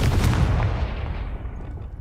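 A Confringo fire spell explodes in the video game Hogwarts Legacy: one loud, booming blast at the start that fades away over about two seconds.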